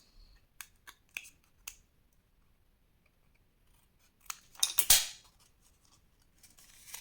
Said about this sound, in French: Alors, il faut bien couper ici. N'ayez pas peur de couper dans l'angle.